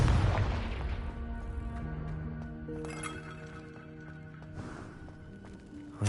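A Confringo blasting spell explodes in the Hogwarts Legacy video game, a heavy boom at the start followed by tinkling, clinking debris and ringing magical tones that slowly fade.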